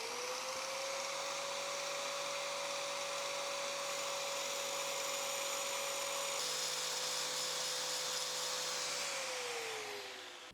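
A tool grinder dressing a diamond grinding wheel to narrow it: a steady, high whining motor hum with a faint grinding hiss, holding constant for about nine seconds before the pitch sags as it spins down.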